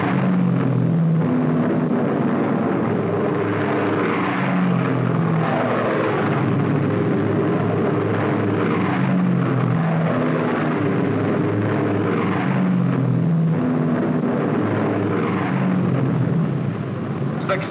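WWII fighter aircraft of 1944 taking off on escort missions, a steady loud propeller-engine drone with rising and falling harmonic tones running continuously throughout.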